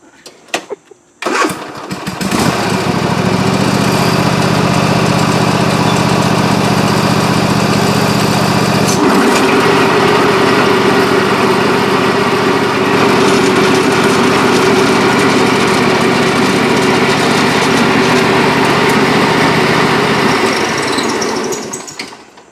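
A Husqvarna 46 inch zero turn mower starts with a brief crank, then runs loud and steady at low speed, with its pitch shifting partway through.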